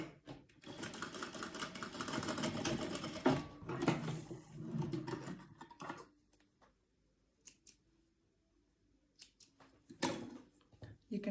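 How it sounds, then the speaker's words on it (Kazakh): A sewing machine stitches elastic into fabric, running in loud steady bursts for several seconds, then stopping, with short rattling runs and quiet handling sounds later. "Алдымен мына шетін бекітіп тігіп аламыз."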